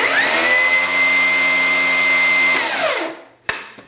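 Milwaukee M18 Fuel cordless table saw fitted with a dado blade stack, running loud and steady with a high whine for about two and a half seconds, then spinning down, followed by a couple of sharp knocks.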